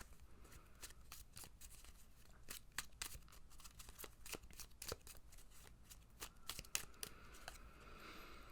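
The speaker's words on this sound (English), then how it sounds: "I'll pull a couple of oracle cards. This is the Sovereign Oracle that I'm using now." Sovereign Oracle cards being shuffled by hand, a close, quiet run of crisp riffling and flicking bursts in an uneven rhythm that continues throughout.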